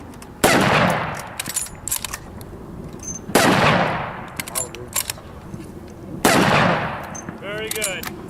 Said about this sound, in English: It's a 5-shot bolt-action rifle, fed through the top. And we'll go ahead and fire this off here for you as well.